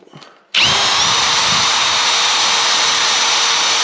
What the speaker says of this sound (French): pour enlever les traces, on va polylustrer avec la petite machine à compresseur